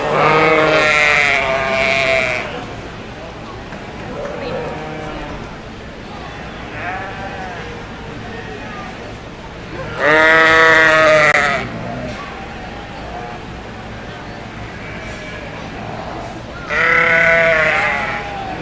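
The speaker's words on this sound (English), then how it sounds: "you got 4 junior sheep out there that represent themselves very well" Junior sheep at a livestock show bleat loudly in several long calls that rise over the steady murmur of a crowd and an announcer talking.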